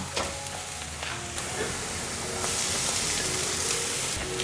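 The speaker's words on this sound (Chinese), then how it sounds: "继续翻炒" Shiitake and enoki mushrooms with soy mince sizzle loudly in a wok, a steady close-up frying hiss marked by the scrape and rustle of constant stirring.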